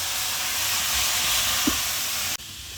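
Vegetables and masala fry over high heat in a pan, giving a steady loud hiss and sizzle with a brief clatter near the end.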